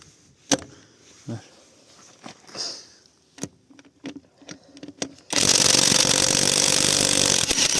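A Catpower 4226 cordless impact wrench with an impact socket works at a stubborn wheel nut. A few scattered knocks and handling clicks come first, then a loud, continuous, buzzing hammer burst runs close-up to the end.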